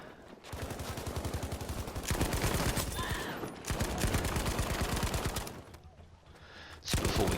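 Type 97 LMG firing in Battlefield V, a rapid, loud stream of automatic shots in long sustained bursts with brief pauses between them, close and dominant.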